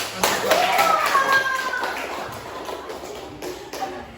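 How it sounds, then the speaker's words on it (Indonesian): A classroom of students claps for a classmate during a lesson, a scattered, uneven patter of hands with a voice and some talk mixed in over the clapping. "Oke, kasih tepuk tangan dulu."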